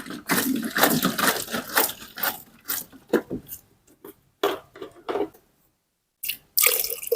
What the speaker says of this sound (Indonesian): Nah, ini air cucian berasnya.